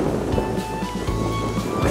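Hail or ice pellets pour down steadily outdoors along the abandoned Ise Electric Railway line, making a dense, loud, continuous rattling hiss with no break.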